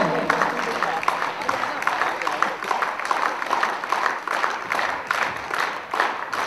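Audience applause at a Kyokushindo karate belt ceremony in Pakistan, a dense wash of many hands clapping steadily at moderate volume, with voices mixed in.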